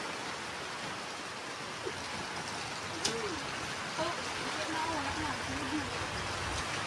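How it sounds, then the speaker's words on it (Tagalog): Dense, steady rush of heavy rainfall, with a few birds cooing and calling faintly in the background. "umuulan ng malakas"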